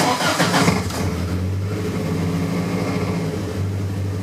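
A 1983 VW Rabbit GTI fitted with a 16V ABA engine and Holley Dominator EFI cranks briefly and catches, then settles into a steady, rumbling idle close to the listener.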